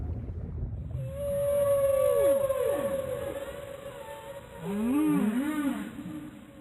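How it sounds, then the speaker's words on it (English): Whale song from a relaxation playlist: long, sliding moans and rising-falling calls that swell and fade over a soft watery background, with no voices. "le son des baleines"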